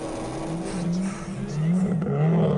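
Rally car on a special stage of the Perce Neige Rally in Canada, engine note climbing steadily under full throttle, a sustained droning rev that swells louder toward the end.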